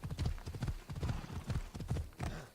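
Hooves clip-clop steadily as horses move at speed in Assassin's Creed Odyssey, the repeated thuds falling in quick groups, near and clear, with no voices.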